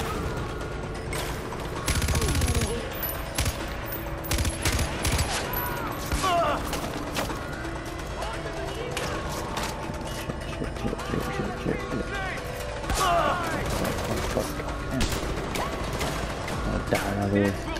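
Video game gunfire in Far Cry 4, repeated sharp shots and bursts scattered throughout alongside other game effects, mixed under players talking over the action.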